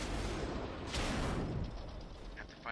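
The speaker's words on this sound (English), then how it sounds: "I have to fire again and nearly kill him with that shot" Tank cannon fire in World of Tanks on Xbox 360, from an FCM 36 Pak 40 tank destroyer. It comes as a loud, dense burst of booming, rumbling gunfire with mechanical clatter, trailing off into quieter rumble.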